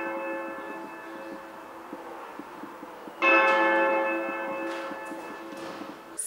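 Bell struck in the Spasskaya tower of the Kazan Kremlin: one loud clanging strike with a long ringing tail, following a quieter lingering hum of earlier ringing, fairly close with no voices.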